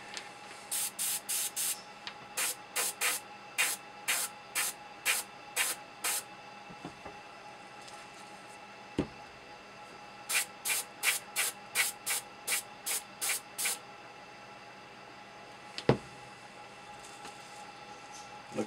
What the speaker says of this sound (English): Airbrushing time.